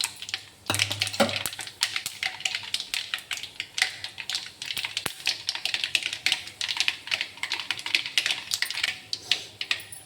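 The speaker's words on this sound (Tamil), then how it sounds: "கடுகும் சீரகமும் நல்லா பொரிஞ்சிடுச்சு." Mustard seeds and cumin crackle and pop in hot oil while a bitter gourd thokku is being cooked. The close, busy spluttering runs continuously throughout.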